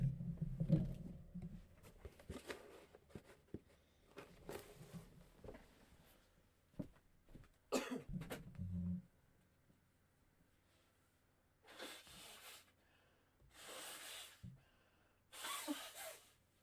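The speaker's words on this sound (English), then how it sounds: "I got to blow my nose." A person blows their nose in several forceful, breathy bursts near the microphone, following quieter snuffling and shuffling sounds.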